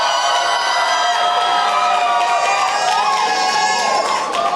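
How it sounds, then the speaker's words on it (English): Student awards ceremony crowd at an animation festival cheering loudly, a sustained wall of shouts, whoops and high-pitched yells filling the room without a break. "Are you ready to cheer?"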